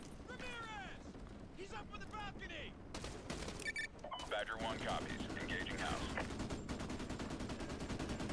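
Rapid automatic gunfire in Call of Duty MW2, sprayed at a wooden fence, with dense repeated cracks that thicken into a continuous loud volley in the second half, plus some game sound effects.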